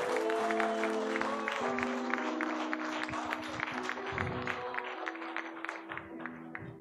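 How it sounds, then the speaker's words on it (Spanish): A church congregation at a Sunday service claps together, a dense patter of applause running under sustained organ or keyboard chords throughout. "Denle el mejor aplauso."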